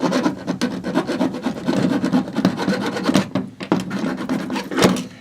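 A hand file sharpens steel crampon points in close, loud, rhythmic rasping strokes, steady and repeated with brief gaps, and no talking.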